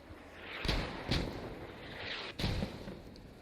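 Mortar fire in a video game match, several distant booming thumps spaced unevenly over a low rumbling background, each with a short trailing echo.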